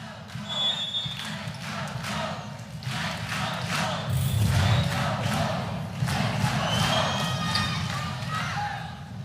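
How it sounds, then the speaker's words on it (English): A crowd builds to a loud, sustained roar in a college gym during a women's volleyball match, with repeated thumps of play underneath and steady broad noise filling the hall. "Crowd getting loud here at Tully Gym"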